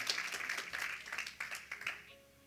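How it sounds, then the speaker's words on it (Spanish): Church congregation clapping for the Lord during a sermon: a short burst of fairly faint, scattered hand claps that fades out quickly. "Den un aplauso fuerte al Señor"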